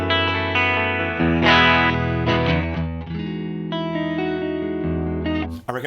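Electric guitar chords ring out through a Fender-style Silver Lux Custom amp model on a ToneX, with a clean, slightly driven tone and shimmering chorus, sustained and full, with no voices.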